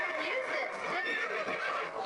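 A video game horse whinnies in a long, wavering neigh that fills the whole stretch, loud and close with little else beneath it.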